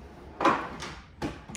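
A toe kick drawer set low under the cabinets of a 28-foot tiny home on wheels slides open and shut, giving two soft, close wooden rolling bumps with a faint knock at the end.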